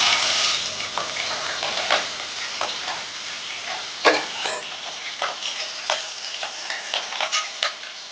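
Green chillies dropped into hot oil with cumin and curry leaves for sabudana khichdi, giving a steady close sizzle broken by sharp crackling pops and spits.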